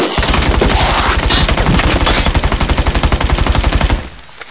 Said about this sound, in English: I'm shooting the enemy